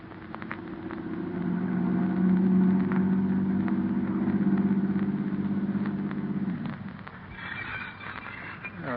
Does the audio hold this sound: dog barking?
no